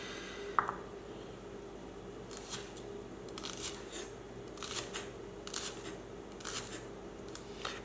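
Vegetables, Brussels sprouts and carrot for a stir-fry, being sliced thin with a knife: about half a dozen crisp, evenly spaced cutting strokes, close by and fairly quiet over a soft steady background hum.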